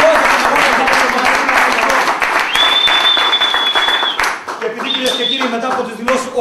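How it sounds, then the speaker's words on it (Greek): Applause from a crowd at a celebration where champions bring home the cup in Nea Mesimvria, a dense steady clatter of many hands under a loud voice on a PA, with a whistle-like tone cutting in. "Ένα μεγάλο χειροκρότημα."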